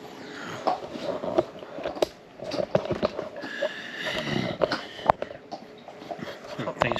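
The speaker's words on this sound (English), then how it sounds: "He's at it again, chewing on his bone." A dog gnaws and chews on a bone close by, giving irregular crunching clicks and scraping bites in uneven bursts, with sniffing and shuffling between them in a quiet indoor room.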